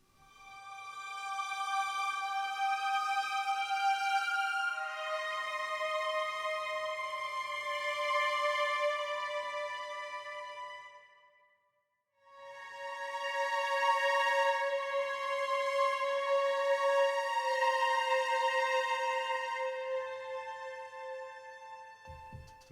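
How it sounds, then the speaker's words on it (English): Two violin sections, first and second violins, play together in a lush Wagner-style sketch: long sustained chords swell and hold, break off into a brief silence near the middle, then resume with a fuller sustained passage. "I have violins 1, violins 2 playing together."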